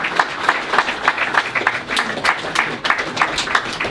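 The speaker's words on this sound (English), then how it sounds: "So a big round of applause, please, to all the school staff as well." Applause for school staff fills an awards ceremony at a football club, a dense crowd of hands clapping with loud uneven peaks from nearby clappers, continuous throughout.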